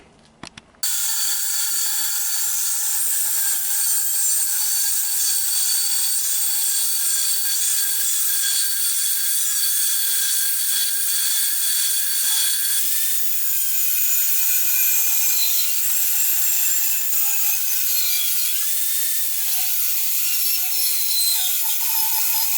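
An angle grinder with a grinding disc works steel stock for a replica of Thor's Stormbreaker, a loud continuous high-pitched grinding whine that starts abruptly after a second and holds steady with small shifts in pitch, with no speech.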